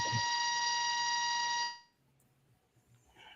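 A steady, loud electronic beeping tone from a participant's audio on an online group call holds for about a second and a half, then cuts off abruptly, leaving faint background noise.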